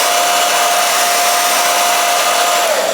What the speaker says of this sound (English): I'm gonna blow dry it to make sure it stays down